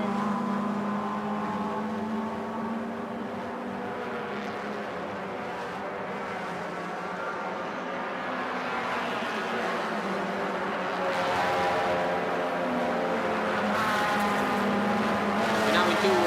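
Touring race cars in a Malaysia Championship Series race at Sepang International Circuit produce a distant, continuous engine roar that swells slightly toward the end, under commentary talk.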